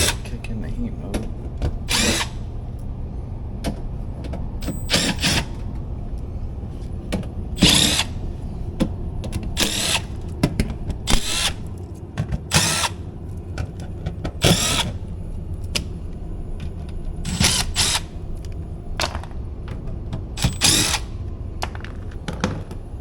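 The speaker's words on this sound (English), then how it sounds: "I'll go ahead and take the screws out while we're waiting for it to kick in the heat mode." A power drill takes the screws out of an air conditioner access door. It whirs in repeated short bursts, close and loud, over a steady humming background.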